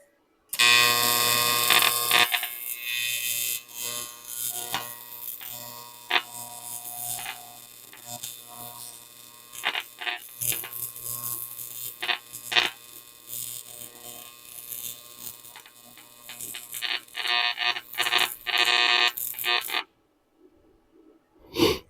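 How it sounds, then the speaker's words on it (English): Welding thin metal on a scrap-built throttle body adapter for a twin-turbo setup: a harsh buzzing, crackling arc in short irregular bursts with brief pauses, fairly close, ending in silence. "Boy, welding thin stuff is tough."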